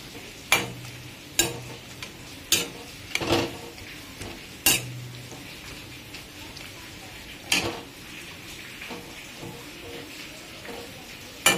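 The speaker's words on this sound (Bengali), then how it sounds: "এখন আমি এখানটায় লাই পাতাটা ছেড়ে দিচ্ছি।" Lai leaves go into a pot of boiling water, followed by clinks and knocks of a utensil against the pot. About a dozen sharp strikes come at irregular intervals over a quiet background.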